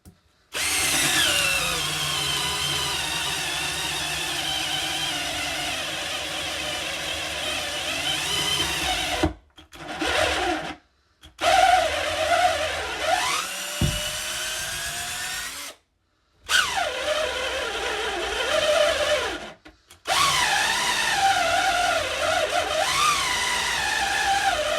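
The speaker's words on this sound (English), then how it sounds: "We will see what the cheapest drill can do." A cheap power drill bought online whines at high speed while boring into material, running in long sustained bursts with several short stops and restarts, loud and close.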